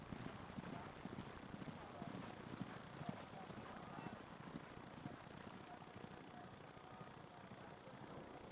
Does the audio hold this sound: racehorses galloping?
yes